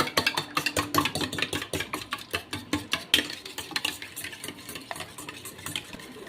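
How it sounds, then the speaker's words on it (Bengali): Two eggs with salt and pepper are beaten briskly in a bowl, a fast run of sharp rhythmic clicks and taps from the whisking utensil, close and fairly loud, without speech. "এবার এই লবণ আর গোলমরিচ দিয়ে ডিম দুটো খুব ভালো করে ফেটিয়ে নেব।"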